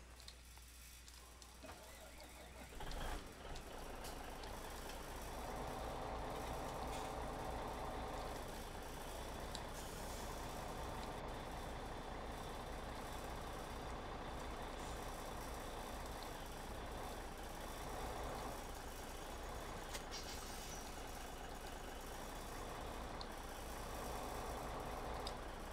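A truck loads a trailer in a farming simulator game, with a steady engine drone running throughout at a low level and some faint tonal whines rising and falling over it.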